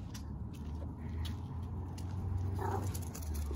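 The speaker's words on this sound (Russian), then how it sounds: "Вот, собаки гоняют птичек." Dogs scuffle and whimper in a garden among fruit trees while chasing birds, with faint yelps and rustling over a low background hum, close and fairly quiet.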